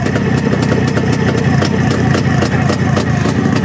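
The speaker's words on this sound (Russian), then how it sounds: "Двигатель хорошо работает, действительно хорошо." A small engine with electronic ignition runs steadily at a fast, even idle, loud and close, with a rapid rhythmic chug and no talking.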